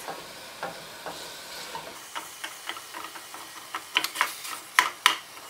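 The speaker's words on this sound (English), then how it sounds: "I just use that to kind of chop up the ground beef in the pan," Ground beef sizzles quietly in a pan while a flat wooden spatula chops it up, a steady low crackle broken by irregular taps and scrapes that grow sharper and louder toward the end.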